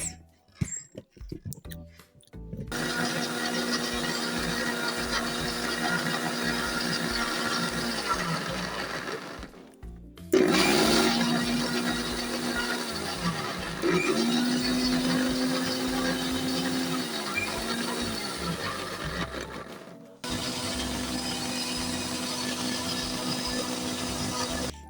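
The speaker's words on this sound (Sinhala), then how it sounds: "ඔන්න මම බ්ලෙන්ඩර් එකට දාලා වතුර ටිකකුත් දාලා තමයි තියෙන්නේ. ඒක බ්ලෙන්ඩර් කරන්න යමු." An electric blender purees mango pieces with water in loud, steady whirring runs: one long spell, a brief stop, a second run with a rising motor pitch, then another restart, each ending abruptly.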